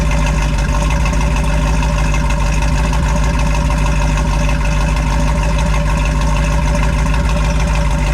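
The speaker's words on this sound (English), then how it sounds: "Listen to this sound. This is idle." Steady low rumble of a 1968½ Ford Mustang GT 428 Cobra Jet V8 idling, close and constant throughout, with an even throb and no voices.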